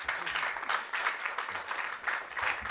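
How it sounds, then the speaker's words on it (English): An audience at a final pitch competition for innovation grants at a university applauds in a sustained, moderately loud patter of many hands, with a few faint voices underneath. "Let's clap for all of us."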